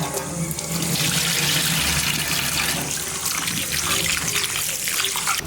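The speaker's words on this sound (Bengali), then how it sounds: "চিরাটা ধুয়ে নিতে হবে প্রথমে" Flattened rice (chira) rinsed under a running tap in a sink, a close, steady rush of water splashing through the flakes with small shifting gurgles.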